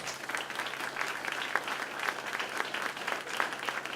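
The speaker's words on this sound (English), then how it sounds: "How about giving our presenters a round of applause?" Audience at a hurricane preparedness symposium applauds the presenters, a steady, moderately distant patter of many hands clapping without pause.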